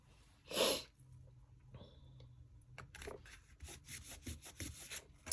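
Quiet rubbing and scraping of a folded paper card being smoothed flat, a series of short dry strokes after a louder sniff-like burst.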